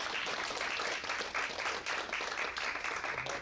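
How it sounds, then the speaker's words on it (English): Applause from a seated conference audience honoring two speakers on Cold War economies of the two Koreas, a steady wash of clapping at moderate distance, fairly even throughout with no talk over it. "can we give a round of applause to our two speakers?"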